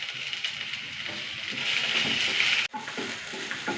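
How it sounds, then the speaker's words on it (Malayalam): Okra sautés in a pan with onions as a steady, moderately loud sizzle. The sizzle swells into a brighter hiss midway, breaks off for a moment, then returns with light stirring. "വെണ്ടയ്ക്കൊന്ന് വഴണ്ട് വരട്ടെ."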